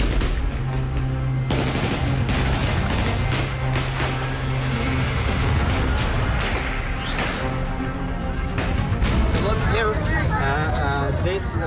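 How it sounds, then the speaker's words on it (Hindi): Gunfire shot into the air by Taliban fighters in Kabul during a flag march, rapid repeated bursts amid a dense, loud crowd din and shouting voices throughout. "यहाँ भी फ्लैग मार्च में शामिल लोगों को डराने के लिए तालिबानियों ने हवाई फायरिंग की"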